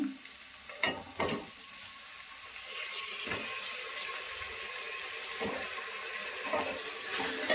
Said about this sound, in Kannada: ಇವಾಗ ಎರಡು ಬದನೆಕಾಯಿ ಹೆಚ್ಚಿಟ್ಕೊಂಡಿದ್ದೀನಿ ಅದನ್ನು ಹಾಕೊತಾ ಇದ್ದೀನಿ